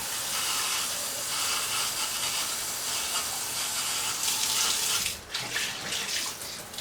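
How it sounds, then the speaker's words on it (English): Water pours steadily onto soaked sprouting seeds, a continuous bright splashing hiss with a brief dip near the end, no voices. "I need to reintroduce water to these because these are a fresh soak"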